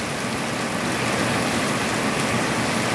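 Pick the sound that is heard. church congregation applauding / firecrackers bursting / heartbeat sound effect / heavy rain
heavy rain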